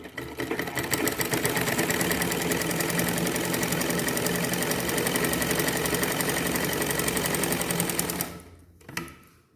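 A sewing machine runs steadily while stitching a blouse collar, a close, continuous rapid whir that holds level for about eight seconds before slowing and stopping, with a brief final burst of stitches.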